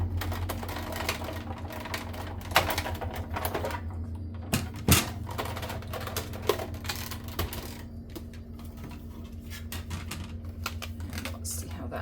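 A die-cutting machine cuts the center out of a vellum sentiment panel, a steady close mechanical whir and clatter with a few sharp knocks, while a person talks over it.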